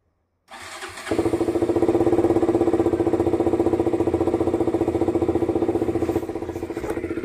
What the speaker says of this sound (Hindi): बाहर जाके तो बाइक स्टार्ट करना पड़ता है